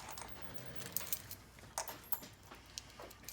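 A small set of expensive Eagle keys jangling and clinking, with scattered sharp metallic taps and rattles close by, fairly quiet and without talk.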